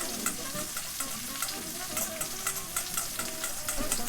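Seasoned chicken frying in a pan, a loud continuous sizzle with crackling bursts pulsing in a fairly regular rhythm, close up and with no talk.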